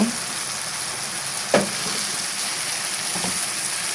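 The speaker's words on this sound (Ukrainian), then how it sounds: "Зараз грибочки пустять свій сік, а обсмажувати потрібно доти, поки сік випарується." Mushrooms frying in a pan as they release and cook off their juice, a soft steady sizzle with a brief clink of a utensil partway through and light stirring sounds.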